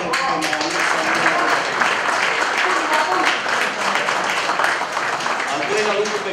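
Crowd applause fills a Poli Iasi football club promotion party, a dense, steady wash of clapping close by that lasts throughout, with voices mixed into it.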